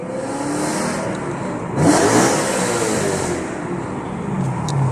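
BMW E92 M3 with a V8 engine and new mods, revving hard with a rising surge near the middle, then holding a steady loud drone, close up with no talk.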